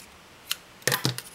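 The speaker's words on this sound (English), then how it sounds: "So using a scissors, what I'm gonna cut like a flag pointed shape out of these" Scissors cut red paper card into a pointed flag shape, giving a few quick crisp snips close up, with no talk.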